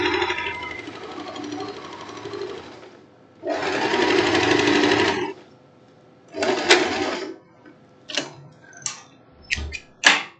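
A domestic sewing machine stitches crepe fabric in close bursts: one long run, a medium run, then several short rapid stitching spurts separated by pauses, with no talking.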